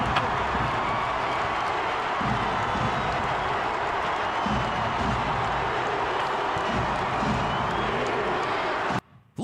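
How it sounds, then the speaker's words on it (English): A packed arena crowd at an NBA Finals game roars continuously, a dense, sustained wash of cheering and clapping that stops abruptly near the end. "Listen to that friggin' crowd"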